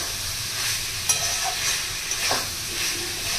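Butter paneer sizzles steadily in a pan while a utensil stirs and scrapes it now and then, with a constant crackling hiss throughout.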